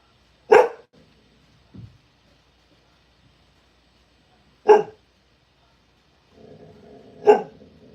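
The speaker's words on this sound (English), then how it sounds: "Barky doggy." An 8.5-year-old female border collie barks three sharp, loud single barks spaced several seconds apart, close by, with a faint low growl between and quiet background sound near the end.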